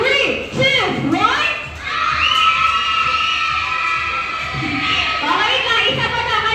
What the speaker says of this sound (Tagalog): Pag sumigaw po kayo ng open.